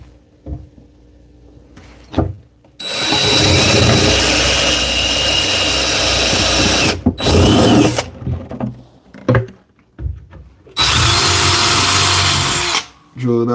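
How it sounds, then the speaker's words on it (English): Power drill boring a screw hole into a solid wood cabinet in a carpentry shop, in three loud bursts of whirring separated by short pauses with thumps and handling noises. "I'll drill it again in the middle."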